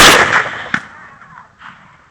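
A single sharp rifle shot fired at a mature male coyote about 100 yards away cracks loudly at the start, then decays into a rolling echo with a fainter distant report.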